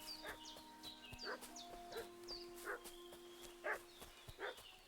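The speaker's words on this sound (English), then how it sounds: "What's that dog making such a fuss about?" A dog in the medieval game Kingdom Come: Deliverance 2 barks repeatedly at a distance in a steady rhythm of about one bark per second. Higher bird chirps sound faintly over it.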